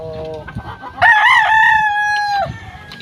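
A Raptor Sweater gamefowl rooster crows once, close and loud, a rising then sustained cock-a-doodle-doo lasting about a second and a half, with faint clucking and rustling around it.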